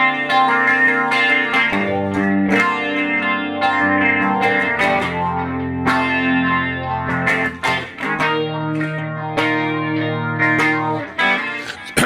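Electric guitar played through a Neural Quad Cortex with a wavering modulation effect and ping-pong delay, ringing chords and melodic lines sustaining continuously at a loud, steady level without any voices.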